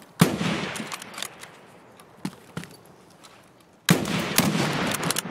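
Gunfire in the tactical shooter Escape from Tarkov, with scattered sharp shots at varying distances, a few distant cracks in the middle, then a denser burst of loud rapid fire near the end.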